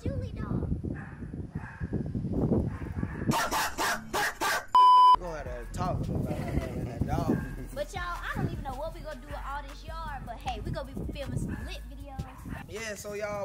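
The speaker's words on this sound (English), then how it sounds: "That's the next door neighbor dog." A next-door neighbour's dog in a backyard barks and yips repeatedly, with whimpering between outbursts, while people talk nearby and a short electronic beep cuts in midway.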